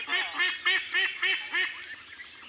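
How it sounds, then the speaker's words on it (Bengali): Farm ducks quacking close by in a quick run of about eight nasal calls that fade toward the end, fairly soft and with no one speaking. "আমাদের হাঁসগুলো এইভাবেই খেলতো"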